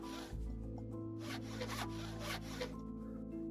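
Saw cutting wood in the Minecraft Carpentry Craftworks mod, a series of quick rasping strokes repeating steadily over a faint background hum, close and moderately loud.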